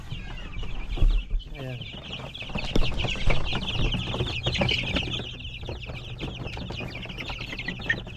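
Young Dekalb White chicks cluck and peep continuously in a dense, busy chorus at close range, with a voice briefly speaking over them.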